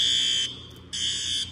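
High school fire alarm sounding during a drill, a loud, shrill electronic tone heard up close that cuts out briefly and then resumes, steady and piercing over a low background hum.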